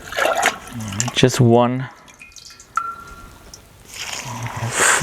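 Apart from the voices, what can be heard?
pouring water into a mixture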